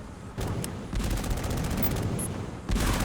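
Rockets fire in rapid overlapping volleys in Command & Conquer on PC, a dense, loud barrage of blasts that swells in bursts across a few seconds.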